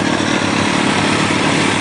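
A modified Kawasaki Ninja 600 sport motorcycle engine idles close by, a steady rumbling drone that holds even and unbroken throughout, with no voices.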